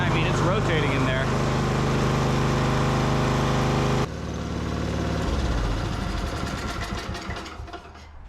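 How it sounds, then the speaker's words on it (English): A Yamaha YS624 snowblower engine runs loud and close, a steady harmonic drone for about four seconds, then the pitch drops and the engine settles into a rougher, uneven idle that gradually fades. "That is the Yamaha YS624 back in action."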